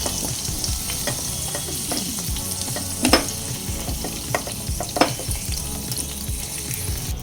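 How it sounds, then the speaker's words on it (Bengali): Potato pieces frying in hot oil with salt and turmeric give off a constant close sizzle, broken by a few louder clinks and scrapes as a spatula stirs them, with no voices. "লবণ আর হলুদ গুঁড়ো দিয়ে নেড়ে ছেড়ে আলুগুলো হালকা লালচে করে ভেজে নেব"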